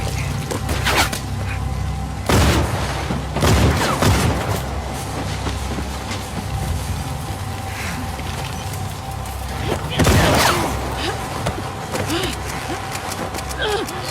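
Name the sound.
gunfire in video game The Last of Us Part 2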